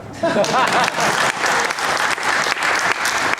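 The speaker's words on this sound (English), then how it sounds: "You can clap." Audience applause at a Hamilton Young Liberals summit in 2013, a dense, steady round of clapping from a crowd that fills the whole stretch at even loudness, with a voice briefly audible near the start.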